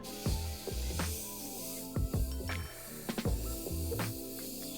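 Short hissing bursts of a Harder & Steenbeck Infinity CR Plus airbrush spraying at 25 PSI, several quick puffs in irregular rhythm, close and fairly quiet.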